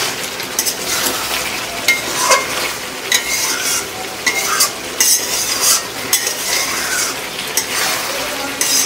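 Country chicken pieces are stirred and sautéed in a pan for a Bengali kosha, with a steady close sizzle under repeated scraping and light clinks of a spatula against the metal, and no voices.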